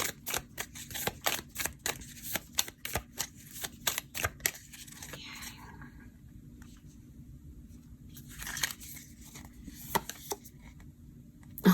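Oracle cards are shuffled and drawn by hand at a tarot reading, giving a run of quick, close, crisp card flicks and slaps, then softer shuffling rustles and a few more snaps.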